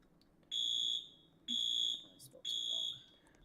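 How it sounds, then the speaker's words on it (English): Fire alarm in a police patrol video game, three loud, steady high-pitched electronic beeps of about half a second each, evenly spaced about a second apart over faint background hum. "do you want me to get FD over here to shut these fire alarms off?"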